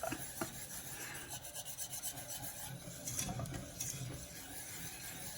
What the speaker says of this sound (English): This is one of Michael's better skills at stirring.